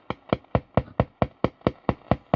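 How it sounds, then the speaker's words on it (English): A mobile phone making a repeated pulsing noise, about ten evenly spaced sharp buzzy bursts roughly four per second, close and fairly loud with no talk. "That's my phone making that noise, by the way."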